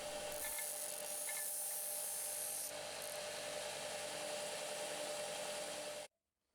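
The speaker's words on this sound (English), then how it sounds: "I'm just using this countersinking tool to clean up those sharp edges" A steady high-pitched grinding whir of a countersinking tool chamfering the edges of drilled holes, running continuously close by, before cutting off abruptly at the end.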